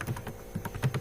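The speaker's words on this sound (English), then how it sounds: "We will type a message" Quick typing on a computer keyboard while writing a line of Scala code, a short burst of light, close key clicks in an irregular rhythm, with no voices.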